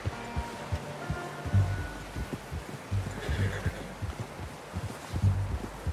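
A horse whinnies faintly amid low thudding hoofbeats and a steady background rumble in the video game Red Dead Redemption 2.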